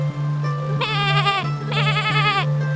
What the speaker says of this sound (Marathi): जशी चंपा झऱ्यातनं बाहेर येते ती एका कोकराला जन्म देते